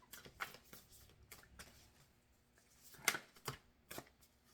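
Tarot cards shuffled by hand during a Libra reading, with several short crisp riffles and flutters separated by quiet pauses, close and fairly faint, with no talking.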